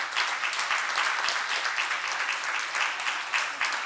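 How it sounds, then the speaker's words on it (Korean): A church congregation claps in welcome, steady dense applause from many hands with no break, moderately loud and close. "인사하시고 우리 박수로 환영하겠습니다"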